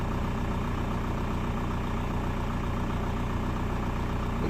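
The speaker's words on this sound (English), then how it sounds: "There's a load on the engine." Steady engine drone from an old car being worked on during a power supply repair, running under electrical load as a potentiometer is turned up, a constant low rumble throughout with no talk.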